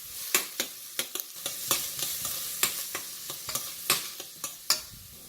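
Onions frying with salt in a pan for mint soya rice, a steady sizzle punctuated by repeated sharp scraping clicks of stirring, close and alone without talk.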